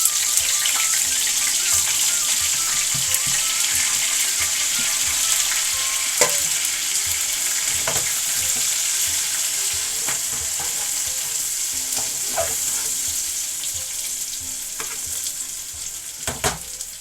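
Masala frying in hot oil in a pan, a steady close sizzle with soft stirring clatter and a few sharp ticks throughout.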